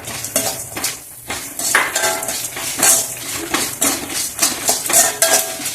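Fenugreek, chillies and sesame seeds dry roast in a pan, with a metal spoon scraping and clattering against it in quick, irregular strokes. The seeds rustle and hiss faintly underneath.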